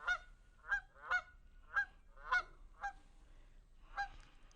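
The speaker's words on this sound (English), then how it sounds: "It is a Canada goose." A Canada goose honks repeatedly, about seven loud, nasal calls in an uneven series, close by and otherwise alone.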